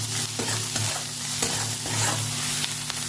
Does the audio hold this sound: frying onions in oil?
yes